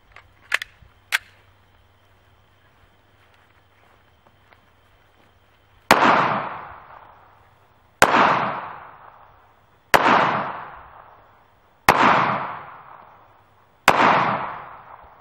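An FN Five-seveN pistol fires 5.7x28mm rounds into a frozen turkey: five sharp, loud shots evenly spaced about two seconds apart, each trailing off in a short echo, after a couple of small clicks.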